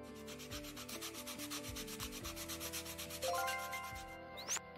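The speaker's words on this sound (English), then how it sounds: "that takes care of the sanding" A doll house part is sanded in Toy Tinker Simulator, a rhythmic rubbing scrape repeating in quick strokes over a soft musical background, ending with a brief rising chime.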